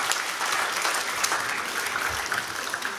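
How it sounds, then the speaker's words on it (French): Lively audience applause at a charity-minded gathering, a thick, continuous wash of many clapping hands at steady volume from start to finish, with no voices standing out. "On peut l'applaudir, s'il vous plaît."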